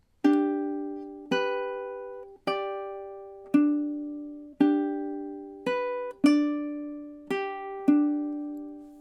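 Ukulele picks measures 9 and 10 of a song, about nine clean plucked notes in a steady rhythm, each ringing and decaying, close and unaccompanied.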